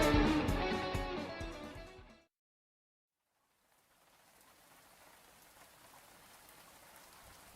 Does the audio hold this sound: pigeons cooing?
no